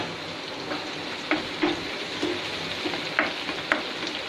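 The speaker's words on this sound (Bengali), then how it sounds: "পেঁয়াজ হতে দিয়েছি, পেঁয়াজ লালচে করতে হবে" Onions fry in a pan for chicken biryani, a steady close sizzle with occasional spoon scrapes and clinks.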